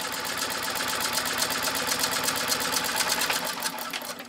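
A 1924 Singer sewing machine stitching through ten layers of heavy commercial-grade upholstery material, running steadily with a fast, even mechanical clatter and hum, close and continuous, with no talk.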